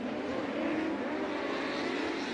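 Wingless A-class race cars roar around the US24 Speedway oval, a loud, steady wall of engine noise from a tightly packed field at full throttle with no break.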